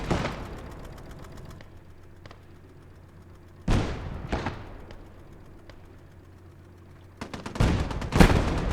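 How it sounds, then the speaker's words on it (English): Call to Arms Gate of Hell battle: a mounted American .50 cal machine gun rattles in short bursts while a mortar fires, producing several loud sharp booms and rapid volleys with quieter gaps between. "Got the American 450 cal mounted machine gun there also doing its bit."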